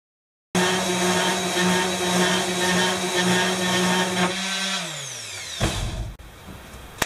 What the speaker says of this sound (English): So let me get my sander plugged up, and we're going to clean these up a little bit.